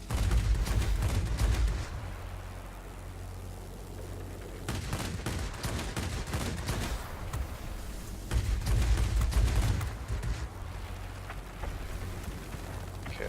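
Aircraft guns fire in long, dense bursts in World of Warplanes, from a Soviet Yakovlev Yak-3T fighter, a loud rattling roar that comes and goes in several bursts over the engine drone.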